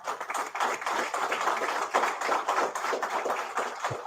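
A crowd claps steadily and densely for about four seconds, a continuous wash of hand claps at close to moderate distance with no talk over it.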